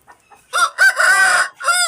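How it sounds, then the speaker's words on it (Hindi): A red rooster crows close and loud, a short call then a long drawn-out cock-a-doodle-doo followed by another phrase, with no talk. "वैसे भी खूबसूरत मुर्गा है।"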